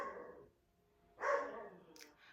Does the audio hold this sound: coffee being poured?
no